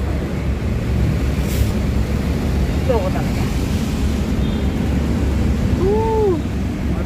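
Road traffic on a drive through Bauan, Batangas, a steady broadband rumble of engines and passing cars that fills the whole clip, with people chatting over it.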